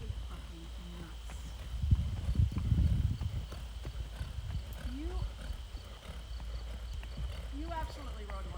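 Horse hooves clip-clopping at a walk during a riding lesson, a steady close rhythm of hoof strikes running under an instructor's talk, with brief vocal sounds in the background.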